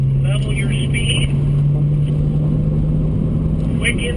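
A BMW M3 weaves through a slalom on a wet track at the BMW Performance Center, its engine holding a steady, close droning hum over constant road and spray noise, with brief higher hissy bursts along the way.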